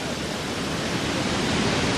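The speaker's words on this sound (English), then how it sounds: "Beautiful waves coming in, but they are still heavy." Heavy six-to-eight-foot surf at Sunset Beach during a surf contest makes a steady, dense roar of breaking water, loud and continuous with no talk.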